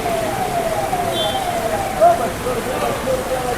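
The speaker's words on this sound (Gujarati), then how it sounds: "અત્યારે બહુ વરસાદ ફાસ્ટ ચાલી રહ્યો છે." Heavy rain falls in a steady, dense hiss that stays even and close throughout, with no talk over it.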